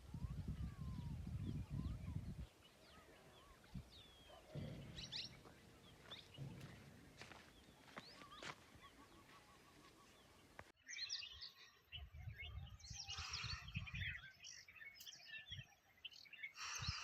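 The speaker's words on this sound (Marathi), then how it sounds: "सकाळपासून मोरांचा आवाज येत होता" Peacocks calling at a campsite in the early morning, loud wailing cries scattered across the scene among other birds, with outdoor ambience and a jump to a different, busier stretch partway through.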